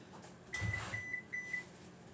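A kitchen oven beeps a short series of evenly spaced electronic tones, about four or five, to signal it is ready, clear and close in an otherwise quiet room.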